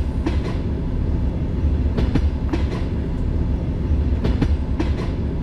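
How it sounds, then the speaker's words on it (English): Inside a moving Russian train carriage, a constant low rumble with recurring clickety-clack rail joints passing underneath in small clusters. "the sound you hear, this is what you get in most of the train carriages"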